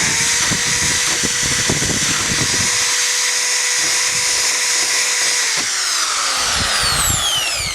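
A loud, close power drill whines continuously during a van renovation, its pitch dipping and rising as it bites, with rattling and grinding underneath.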